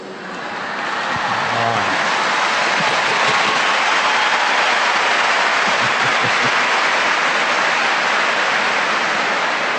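A large audience at a Catholic talk claps in a sustained, dense wash of applause that swells up within a second and stays loud and steady throughout.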